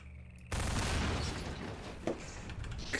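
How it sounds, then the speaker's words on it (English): In Half-Life 2, an alternate-fire grenade goes off as a sudden, dense burst of blast noise that then rolls into a rumbling, crackling tail, close and fairly loud. "That's an alternate fire grenade."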